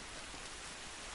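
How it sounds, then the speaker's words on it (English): Steady, dense rainfall in the video game The Last of Us Part 1, an even wash of hiss with no breaks or voices over its short span. "This rain ain't gonna do us any good"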